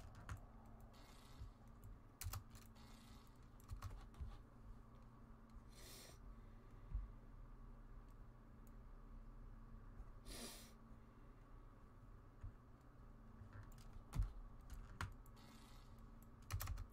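Fast, fairly quiet typing on a computer keyboard, with irregular bursts of key clicks and short pauses over a low steady hum, with no talk.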